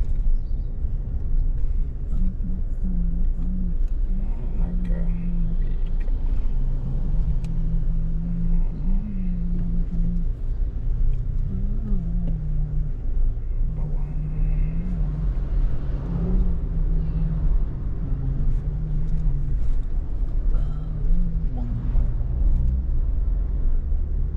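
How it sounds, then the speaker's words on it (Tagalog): Steady low engine rumble and road noise inside a car in traffic near Gilroy, a continuous drone with faint tonal hum shifts, no talking over it. "Maka-traffic na naman dito."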